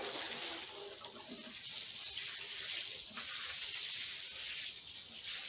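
Water pouring onto a greenhouse bed during watering, a continuous broad splashing rush that swells and eases slightly over several seconds, close and alone without talk.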